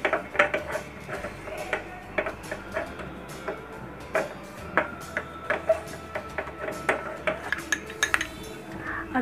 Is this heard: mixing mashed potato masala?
yes